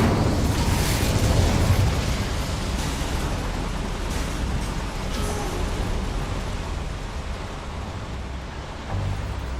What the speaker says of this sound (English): I'd better light these boilers if I want to go any further.